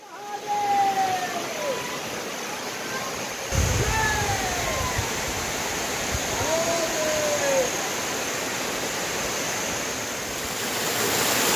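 Water from springs and streams along a forest path to Nageshwar temple near Chorawne, Chiplun, rushing steadily throughout with birds chirping over it.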